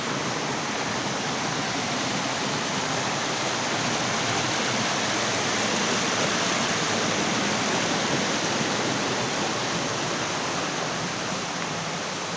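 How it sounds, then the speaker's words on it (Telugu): An unexplored waterfall with water flowing steeply downward, a dense, even hiss and rush of cascading water filling the whole stretch, constant and fairly close, with no voices. "చూడండి వాటర్ అనేది ఎలా ప్రవహిస్తుందో"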